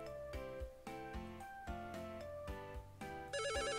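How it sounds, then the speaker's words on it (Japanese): A phone rings in the Japanese video game Happy School, with a repeated electronic ringtone over background game music, fairly loud and close, with no talking. "で、電話？ 一体こんな時間に何なんだ？"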